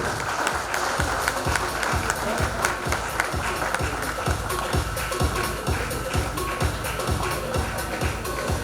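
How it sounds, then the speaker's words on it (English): An audience at a Rotary Club meeting applauds new members being welcomed, sustained even clapping with a faint rhythmic thump running beneath it, no speech over it. "a round of applause for our members"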